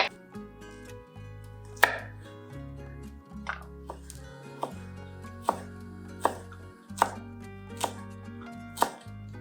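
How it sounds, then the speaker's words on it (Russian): A knife chops parsley steadily on a cutting board, sharp knocks landing in an even rhythm, close and clear, with no voices. "Теперь порубим петрушку."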